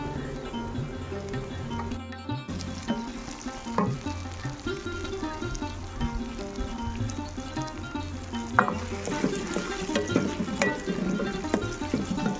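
Bay leaf, three chillies and black pepper roast in hot oil for a tadka in a pea-and-mushroom sabji, sizzling loudly and steadily with frequent close clinks and scrapes of stirring; no talking.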